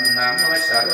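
A bell on an iron rack rings with bright, sustained metallic tones, a steady ringing close by that holds through the whole short moment.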